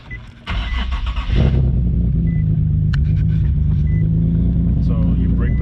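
Nissan 370Z Turbo engine starting: a brief cranking whir, then the engine catches and settles into a loud, steady low idle rumble with a few faint clicks nearby.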